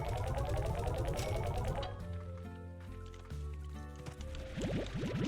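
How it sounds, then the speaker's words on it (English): Water splashes onto slimes in a video game, producing wet squishing, dripping and gurgling tones in a steady, dense stream with bubbly pitched bursts, fairly quiet and continuous. "Yes, bad and naughty slimes get splashed."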